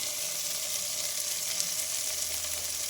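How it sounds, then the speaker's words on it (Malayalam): Ginger, green chillies and onions stirred into a beef curry in a pan, giving a steady, fairly soft frying hiss with faint scraping throughout and no voices. "നല്ലപോലെ ഇളക്കി കൊടുക്കുക"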